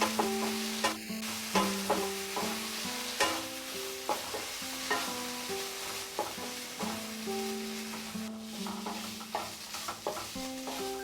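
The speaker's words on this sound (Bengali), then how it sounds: "এটা দিয়ে আমি এবার মাঝারি আঁচেই 1 মিনিট এটাকে নাড়াচাড়া করব।" A ground mustard, poppy seed and green chilli paste is stirred in a pan over medium heat for Bengali data chorchori, with rhythmic spoon scrapes and a light sizzle over soft background music.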